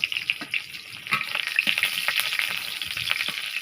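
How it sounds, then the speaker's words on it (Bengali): Onion and chili frying in hot oil in a heated wok, a steady loud sizzle with irregular crackles and brief stirring bursts, close up and without talk. "কড়াই বসিয়ে দিয়েছিলাম, সেটি গরম হয়ে গেছে, তেল দিয়ে নিয়েছিলাম। এবার এতে পেঁয়াজ মরিচ দিয়ে দিব।"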